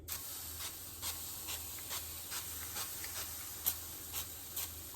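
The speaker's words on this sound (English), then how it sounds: "I'll just spray a little bit of more oil here, olive oil." Soft, repeated spritzes of olive oil spray onto a hot grill pan hiss in short bursts against a quiet background.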